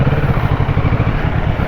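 Motorcycle engine idling in a traffic jam on a narrow road, a close, loud low rhythmic chugging thump that pulses steadily with no voices.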